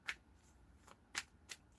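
Tarot cards being shuffled by hand: a few short, soft riffling bursts spaced irregularly, close and quiet, with no talking.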